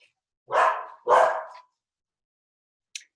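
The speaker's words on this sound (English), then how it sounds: "my dog is barking" A dog barks twice in quick succession at close range, followed by a short faint yip after a pause.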